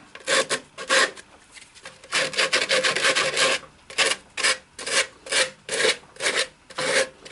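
Hand sanding on a turned maple piece: rhythmic rasping strokes of abrasive rubbing the wood, repeated back and forth in close, fairly loud bursts with short pauses between them.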